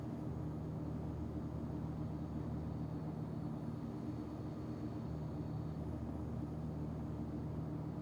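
Airplane engines roaring at a steady, continuous drone during takeoff in the X-Plane 10 flight simulator, a broad rumble holding level throughout with no voices.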